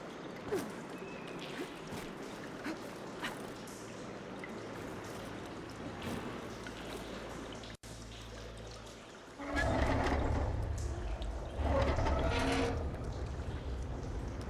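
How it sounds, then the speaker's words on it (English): In the video game Horizon Forbidden West, water pours and splashes steadily into a room over a low rumbling hum, growing louder and fuller partway through before surging in heavy bursts. "Aloy, I can hear water in the room again"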